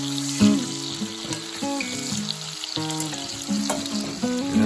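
Bacon strips fry in a pan for a serrano and onion bacon omelet, giving a steady, close sizzle with soft crackles, broken by a few sharper bumps of the strips being moved or turned.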